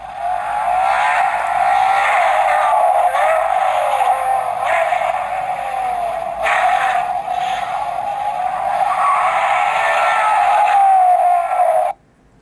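Electronic sound effect from a Bburago Junior toy Ferrari 488 GTB: a loud, continuous recorded engine roar with revving and tire-squeal sweeps, played close for about twelve seconds before cutting off abruptly.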